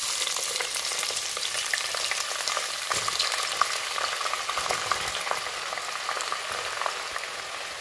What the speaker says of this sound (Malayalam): ആദ്യം നമ്മൾ ഈ ചക്കയൊന്ന് വറുത്തെടുക്കാം.